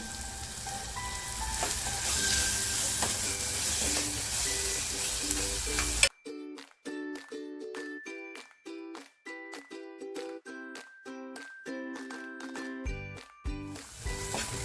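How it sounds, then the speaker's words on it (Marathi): Chopped tomato and salt go into a hot pan for a green chana and suran masala, sizzling steadily at first, then giving way to a series of sharp, rhythmic clinks and taps before the sizzle returns. "आता जो टॅमॅटो घेतला होता ना कापून तो टाकते"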